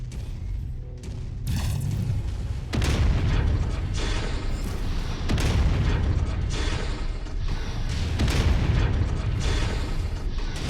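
Mech weapons firing in a BattleMech video game with an urban setting, a dense, continuous barrage of heavy booms and mechanical clatter, loud and sustained throughout.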